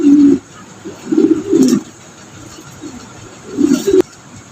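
Mondain pigeons in a cage giving low, throaty coos, several separate bursts spaced unevenly across the moment, close and fairly loud with faint background hum.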